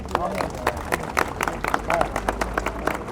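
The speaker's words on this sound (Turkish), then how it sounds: "Yani bir alkış almayalım mı?" Scattered clapping from a crowd, irregular claps over background chatter and babble.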